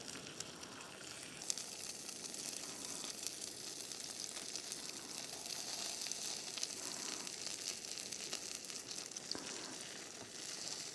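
Pre-cooked bacon warming up in a pan at a campsite, giving a steady, even crackling sizzle from start to finish with no voices.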